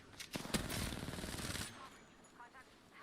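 Automatic weapon fire in a first-person battle royale shooter, with a dense burst of rapid shots for about a second and a half that then trails off into quieter game noise.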